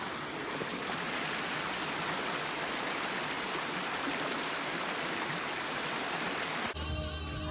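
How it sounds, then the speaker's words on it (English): River flowing beside a campsite near a highway, a steady loud broadband rush of water that holds unchanged throughout and cuts off abruptly near the end. "we have a gorgeous river, so we're not complaining"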